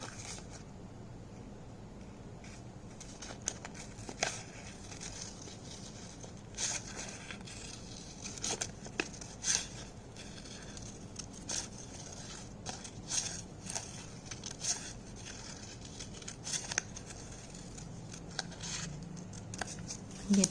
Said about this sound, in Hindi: बेस ट्री को हम काट लेते हैं।